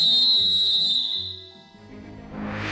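A very loud, shrill referee's whistle blown close by holds one steady piercing blast for about a second, then gives way to low rumbling noise.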